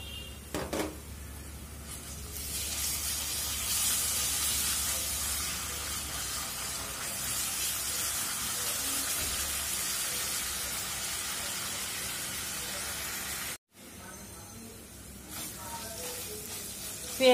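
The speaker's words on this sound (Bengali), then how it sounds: "আমি এখানে এক চামচ রসুন বাটা দিয়ে দিব।" Onion and garlic paste sizzle and fry steadily in a hot pan, a loud continuous hiss that holds throughout, drops out for a moment, then picks back up.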